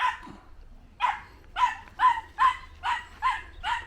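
A dog named Daisy barks outdoors on a walk, a rapid run of about seven sharp, fairly close barks in steady rhythm after a brief pause, with no talking.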